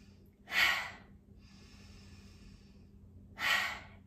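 Two deep, audible breaths during a yoga session, each a strong airy rush of inhaling or exhaling, spaced about three seconds apart, with a softer breathy stretch between them and no talking.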